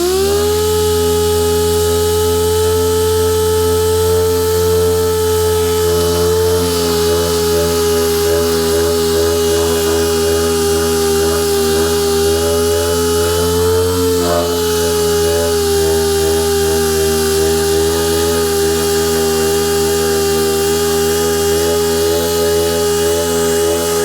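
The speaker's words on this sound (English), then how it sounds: "we'll switch over to the DA again, and we'll use a little 80 grit" A dual-action sander fitted with 80-grit paper runs on body filler on a 1973 TC125 motorcycle, producing a loud, steady, close-up motor drone with a constant buzzing hum and slight shifts in load throughout.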